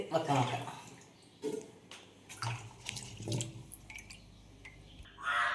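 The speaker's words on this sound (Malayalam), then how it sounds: "ആവശ്യത്തിന് വെള്ളം ഒഴിച്ച് കൊടുക്കുക" Water splashes and gurgles into a pressure cooker holding tapioca being cooked for a kappa and sardine dish, pouring in uneven bursts near at hand while a voice talks over it.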